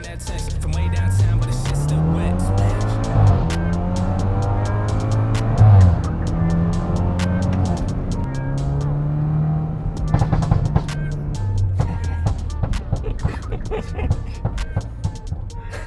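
A tuned 2-liter BMW 328i F30 with the N20 engine accelerates hard, its revs rising and dropping through several gear changes. Later come clicking and popping sounds, and a voice speaks briefly.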